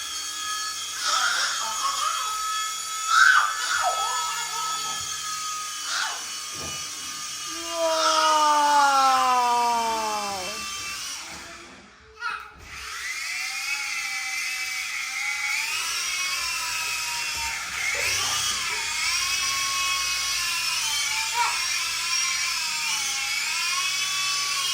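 A toy helicopter gives a steady whirring motor whine that rises and falls in pitch, with one sweeping pitch drop and a brief dip near the middle before the drone resumes.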